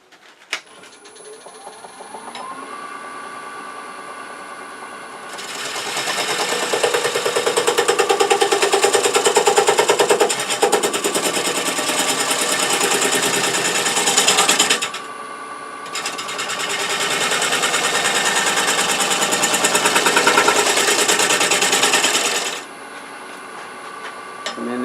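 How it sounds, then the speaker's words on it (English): A bowl gouge cuts a tenon on an unbalanced live-edge winged cherry bowl spinning on a lathe, giving two long, loud, steady cutting passes with a short break between them and quieter motor hum before and after. "I think I'm going to switch to a little smaller bowl gouge to cut that tenon"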